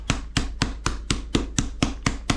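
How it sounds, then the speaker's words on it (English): A hammer taps chicken through a plastic bag on a board, ten sharp evenly spaced thumps about a quarter second apart, close and moderately loud with no voices. "we're going to come over with another baggie and then our hammer. And just give it a little tap."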